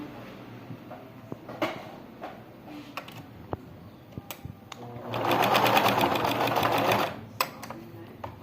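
A sewing machine stitches a small baby shoe nearby, with scattered clicks and handling taps before a steady two-second burst of fast stitching, then more clicks, without talk.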